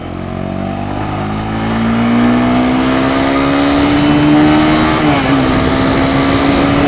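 A 2015 Honda CB300F motorcycle accelerates on the road, its engine note climbing steadily in pitch and loudness with a brief dip at a gear change, the rising whine up close over constant wind rush.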